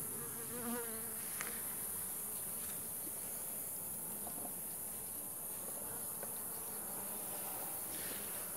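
Honey bees buzz steadily around a hive during an inspection of a weak colony, a dense continuous drone of many wings filling the air with a few nearer bees passing close.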